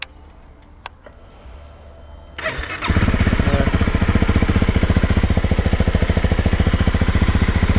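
A 2018 Honda CRF250 Rally motorcycle with a stock engine and exhaust is started after a few seconds of quiet, then settles into a loud, steady, throbbing idle right up close.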